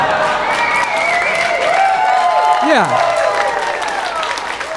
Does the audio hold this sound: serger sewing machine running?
no